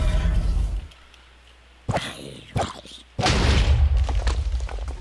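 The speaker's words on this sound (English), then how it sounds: "Obliteration will cause an AoE explosion, killing the mob" Minecraft explosions from the Obliteration enchantment in the Engender/Age of Minecraft mod: a deep booming blast, then a quiet gap, two short crunching hits, and a second loud rumbling explosion that lingers.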